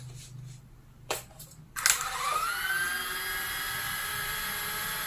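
An Eachine E120 RC helicopter motor spins up after repair, two short clicks and then a steady high-pitched whine that rises and holds close and loud.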